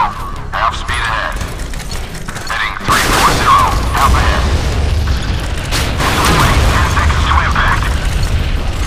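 A warship rocket launcher fires in Modern Warships, with a sudden loud, rumbling burst of booming launches about a third of the way in that keeps roaring dense and heavy through to the end.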